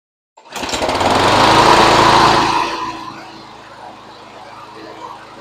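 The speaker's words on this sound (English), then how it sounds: "we're going to go ahead and start the mower and see how it runs" A John Deere JS45 walk-behind lawn mower that had sat unused for a long time starts up nearby, its small engine roaring loudly at first and then settling into a steadier, quieter idle.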